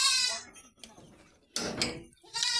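A young goat bleats twice, a high wavering cry at the start and again at the end, with rustling farmyard noise in between.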